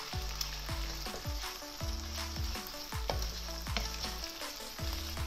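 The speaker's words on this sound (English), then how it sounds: "So just give it a quick stir like that." Scrambled eggs sizzle in oil in a wok while a utensil stirs them, with steady loud frying and repeated rhythmic scraping strokes, close up with no talk.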